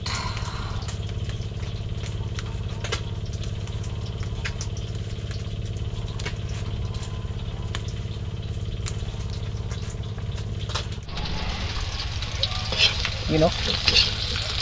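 Garlic and onion sautéing in a pan give a steady, close sizzle with scraping stirs throughout, and a louder burst of spitting near the end.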